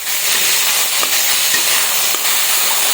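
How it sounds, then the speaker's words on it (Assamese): Small chopped potatoes fry in hot oil, a close, steady sizzling hiss with faint crackles and no speech. "ইয়াত তেলত ভাজি দিম"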